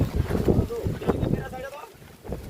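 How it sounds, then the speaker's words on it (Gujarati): Strong gusts of wind buffet the microphone on the Girnar hilltop, a loud continuous rumble with roaring surges, while voices talk over it. "અહીંયા તો એકદમ પવન જોરદારથી આવી રહ્યો છે."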